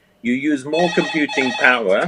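A mobile phone rings loudly and steadily for about two seconds, a bright repeating electronic ringtone overlapping a voice as he keeps speaking during an interview.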